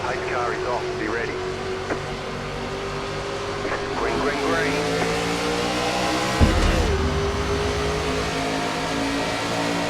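NASCAR race cars in the iRacing sim launch from a restart, 2003 season cars at Pennsylvania, with a steady engine drone that swells as the pack accelerates and a gear shift thump midway, a voice talking over it.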